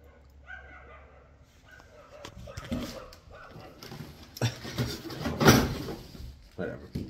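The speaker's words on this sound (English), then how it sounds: "Dogs are loud." Dogs barking in bursts that grow louder toward the end, mixed with yips and whimpers, while a person talks over and between the barks.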